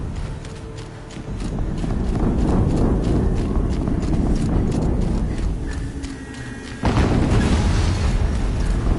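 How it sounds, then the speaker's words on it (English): Another explosion in Horizon Zero Dawn hits abruptly late in the stretch, loud and broad, over ongoing hoof-like clopping and dense game ambience. "Another explosion."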